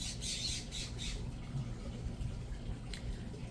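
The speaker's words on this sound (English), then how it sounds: "Who are you up here squawking?" A bird squawks in a few harsh, close calls at the start, with one more short cry near the end over a low background rumble.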